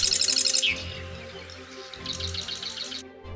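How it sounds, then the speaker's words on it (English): Californian marsh wren singing in a call-and-response pattern, rapid bright chirping trills followed by a brief pause and then an answering burst, clear and close over a faint low background hum. "Others, like the Californian marsh wren, use a call and response pattern central to gospel music."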